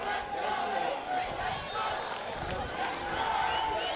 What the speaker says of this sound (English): the crowd is certainly alive here at Western Province Cricket Club, supporting the men in the green and gold